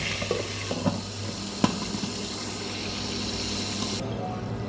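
Chicken fries in a pan for a creamy white chicken dish, giving a steady low sizzle with a few light clinks near the start, until the hiss cuts off abruptly near the end.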